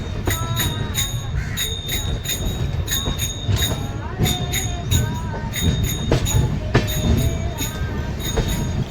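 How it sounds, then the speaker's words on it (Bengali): Rupasi Bangla Express pulls slowly out of Kharagpur, with rhythmic clickety-clack over rail joints and repeated high metallic wheel squeals ringing out, loud and close from on board. "খড়গপুর থেকে ছাড়ার পর ট্রেন ধীরে ধীরে মেদিনীপুরের দিকে ঘুরে যাচ্ছে"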